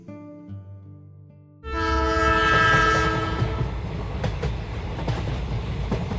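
A train sounds its horn in a long steady blast, then the train rolls past loudly with a rumbling clatter of wheels and carriages.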